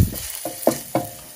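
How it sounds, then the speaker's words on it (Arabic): Minced garlic fries in a pan with a soft steady sizzle, broken by three quick stirring scrapes spaced about a quarter second apart, close-up and with no voices. "نقلي التوم المفري، ابتدى يتغير لونه برضو"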